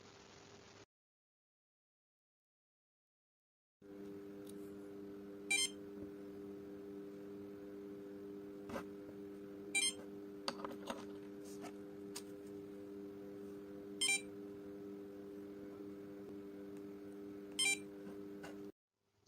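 The buzzer of an Arduino-based RFID transport system gives several short, sharp beeps spaced apart over a steady electrical hum, with faint clicks in between.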